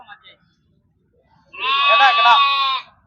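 A goat bleats once, loud and close, in a long wavering cry at a crowded goat and sheep livestock market in Puthiyamputhur, Thoothukudi district, after a brief quiet stretch.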